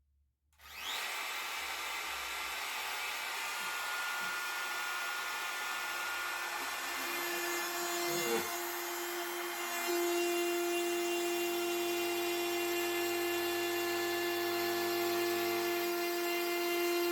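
A router profiling the edges of wooden doors holds a loud, continuous high whine close by, its pitch dipping and shifting partway through as the bit cuts along the wood.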